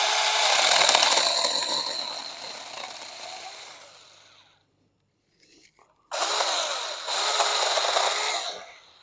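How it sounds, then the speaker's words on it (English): A chainsaw cuts through a thick dead log outdoors, loud and steady for several seconds, falling away to a brief silence, then biting back in for another sustained run. "Always start a chainsaw before you enter into the wood."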